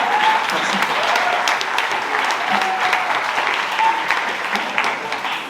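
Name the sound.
audience applause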